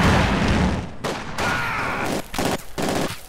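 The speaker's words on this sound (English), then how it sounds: "We are taking infantry fire." Infantry gunfire in the video game Company of Heroes 2, with loud, dense volleys of rifle and machine-gun fire and booming impacts, broken by brief gaps toward the end.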